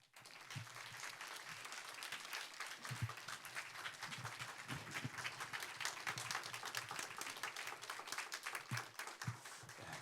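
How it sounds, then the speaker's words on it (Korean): A church congregation at an evening prayer meeting breaks into sustained, even applause to welcome a speaker, a dense steady patter of many hands lasting about ten seconds. "오늘 이 제목으로 말씀 전해주실 때 우리 큰 박수로 모시겠습니다."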